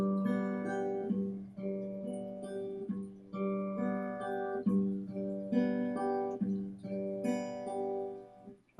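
Acoustic guitar picked in a steady pattern across the high three strings while holding a single unchanging chord, each note ringing clearly in an even, repeating rhythm, played close and alone with no talking.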